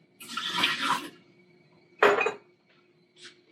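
Water from a Nespresso Vertuo Plus tank pours out in a short splashing gush, then a second brief burst and a faint final trickle, close by in a quiet room.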